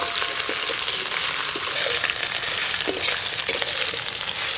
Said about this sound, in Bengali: আলুগুলো তো একটু ভাজা ভাজা হয়ে গেল।